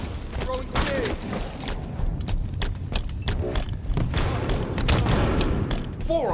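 Grenades explode in a Halo 5 Guardians match, a dense run of repeated booms and thuds layered over constant battle noise, close and loud throughout.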